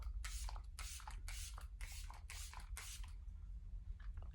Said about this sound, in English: I do yet another spritz of setting spray